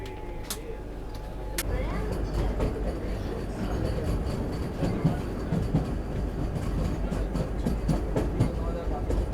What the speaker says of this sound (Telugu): మన ట్రైన్ కూడా డిపార్ట్ అయిపోయింది గద్వాల్ జంక్షన్ నుంచి